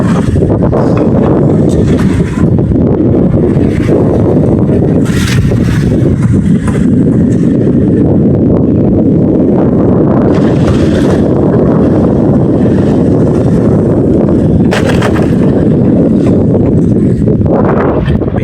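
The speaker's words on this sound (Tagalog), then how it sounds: "Maingay yung hangin." Strong wind roars steadily at sea, loud and unbroken, with gusty buffeting on the microphone and no voices.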